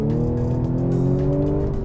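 An Audi S5 accelerates hard, its engine note climbing steadily in a loud, close, sustained rev, heard alone without talk.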